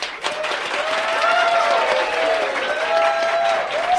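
Applause from a live audience voting by clapping at a radio show taping, a sustained burst of hand claps lasting about four seconds, with a voice calling out over it.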